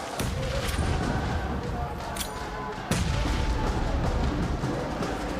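Grenades explode in a PUBG Mobile World Championship grand finals match, dull booms and sharp blasts going off repeatedly under dense battle noise, with a commentator talking over them.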